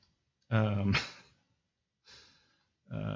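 An animated character's voice breathing hard after running in, close up: a loud voiced gasp and sigh, then softer panting exhales separated by short pauses.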